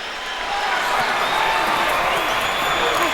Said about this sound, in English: some fans are actually booing